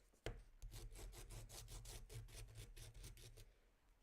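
A watercolour pencil being sharpened, close up: a quick tap, then a steady series of rhythmic scraping turns of wood and lead in the sharpener, fairly quiet.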